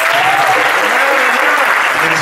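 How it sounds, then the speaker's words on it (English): A church congregation claps hands together in praise, a dense, steady burst of applause that fills the room throughout without a break. "Give God a hand clap of"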